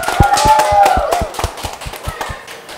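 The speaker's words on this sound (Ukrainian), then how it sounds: "Оплески на честь іменинниці!" A small group claps for a birthday girl at a home talk-show-style celebration, a loud, close burst of distinct hand claps in a fairly quick irregular rhythm, with voices talking over the start.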